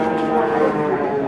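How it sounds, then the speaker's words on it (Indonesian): Two jumbo Limousin cattle at a quiet livestock market, with one giving a loud, drawn-out moo up close, heard alone for just over a second. "ini ada 2 ekor sapi jumbo"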